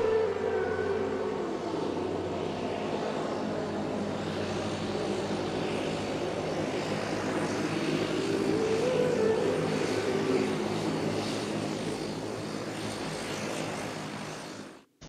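Steady roar of a passenger airplane in flight heard from inside the cabin, a constant loud engine drone with a low hum, holding for the whole stretch before cutting off at the end.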